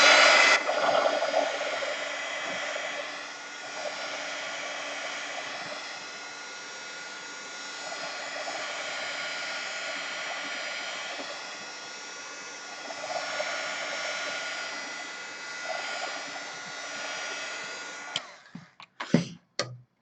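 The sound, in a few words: heat tool drying paint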